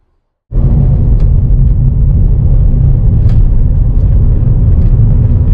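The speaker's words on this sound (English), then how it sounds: "we are rolling down the road in this 24 Versa S" A 2024 Nissan Versa S car rolling down the road, a loud, steady low rumble of engine and tyre noise from inside the cabin, starting abruptly after a moment of silence and holding constant with no talk.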